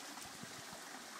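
Water flows steadily in the Fiumicello river in Cilento, a continuous rushing, trickling stream sound heard close and alone with no voices.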